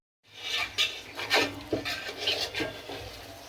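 Rice sautéed for pulao, scraped and stirred in a pot with a utensil, giving soft rasping strokes in an uneven rhythm, close and fairly quiet, with no voices.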